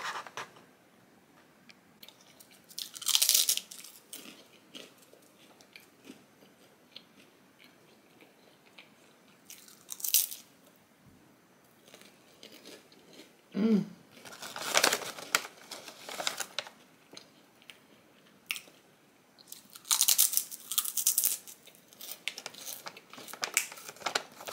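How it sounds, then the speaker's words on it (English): Crispy rice crackers are bitten and chewed in separate bursts of sharp, close crunching, with quiet pauses between the bites and no talking. "Lately, I've been eating this crispy rice cracker."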